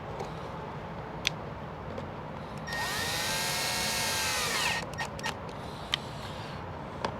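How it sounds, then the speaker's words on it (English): A power tool whirs for about two seconds at a steady high pitch during a solar panel install on a Werner trailer, fairly loud over a constant background hiss, with a few sharp clicks before and after. "Once you start the nuts, you can use your impact."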